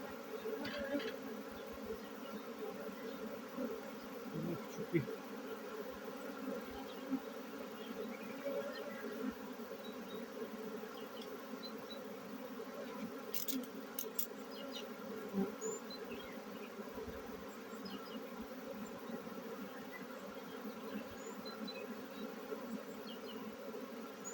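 Honey bees buzzing around a hive outdoors: a continuous, even drone of many insects at low volume, with faint scattered background noises.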